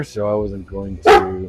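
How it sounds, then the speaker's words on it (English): A pet dog barks outdoors in a few sharp, close, loud yaps, the loudest near the end, mixed in with a person talking nearby. "That's my dog barking."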